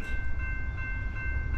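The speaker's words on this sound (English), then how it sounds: "First train of the day." A Norfolk Southern freight train with Dash 9 locomotives approaches, a low rumble under a steady sustained tonal hum, moderately quiet and still some distance off, with no talking.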